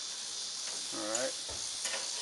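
Bacon-wrapped ranch chicken skewers on a grill give a soft, steady sizzling hiss for a couple of seconds, with a brief faint murmur of voice partway through.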